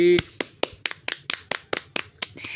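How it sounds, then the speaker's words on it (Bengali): A child claps hands about ten times in a quick, fairly even rhythm, sharp close slaps with a voice heard at the very start. "হাততালি দাও। হাততালি।"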